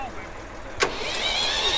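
A gas Ford 3000 tractor engine runs at a farm estate auction, a steady mechanical drone with a single sharp knock partway through, heard amid outdoor background noise.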